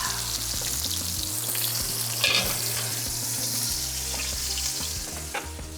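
A seared steak sizzles steadily in a hot skillet, a loud, close, continuous crackle with a few light clicks and knocks of the pan; no voices.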